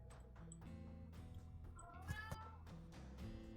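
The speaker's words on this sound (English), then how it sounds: "Sorry about my cat." A cat meows once, faint and somewhat distant, rising briefly over a steady background of music and room noise.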